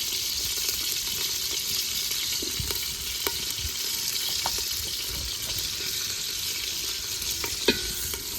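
Chopped onions frying in hot oil with garam masala in a pan, a steady, close, dense sizzle running throughout with a few faint stirring clicks, no talk.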